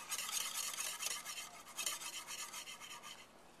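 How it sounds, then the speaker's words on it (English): A whisk scrapes rapidly and steadily around a bowl of zabaglione custard set in an ice bath, a bright rhythmic rasping that pulses without pause, close and fairly loud, with no voices. "I'm going to go ahead and keep whisking this for a few more minutes"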